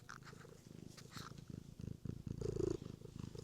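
A cat purrs close up in a steady, rhythmic rumble, each breath pulsing softly and evenly, with a brief faint meow midway.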